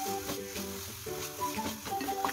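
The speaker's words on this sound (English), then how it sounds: "make sure you caramelize the onion very well and keep it in low flame" Onion slowly caramelizing in a pan over a low flame for a French onion burger, a soft, low sizzle with gentle stirring, quiet and close, without speech.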